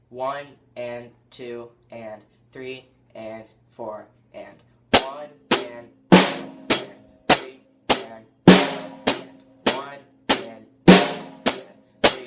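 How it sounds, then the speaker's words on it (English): Snare and hi-hat struck together on a drum kit in a basic rock beat, heard as loud, sharp, evenly spaced hits after a voice counts the rhythm aloud without any drumming. "Now what you're going to want to do is just the snare and the hi-hat together"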